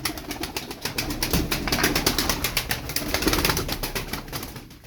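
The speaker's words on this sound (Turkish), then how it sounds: "Şimdi hepsine teker teker kanat vereceğim. Ürküteceğim kuşları." Flock of tumbler pigeons, a Turkish breed of play birds, startled into flight with a burst of rapid, rhythmic wing flapping and clapping, close and fairly loud throughout, with faint cooing underneath.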